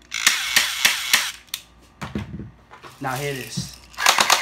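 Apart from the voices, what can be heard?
BB gun being fired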